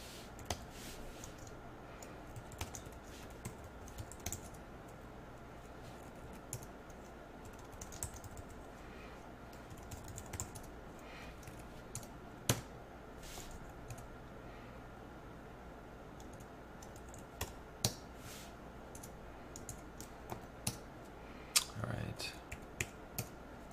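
Soft, scattered clicks of typing on a computer keyboard while filling out a web form. The keystrokes come in irregular bursts over a quiet room background, and no one speaks.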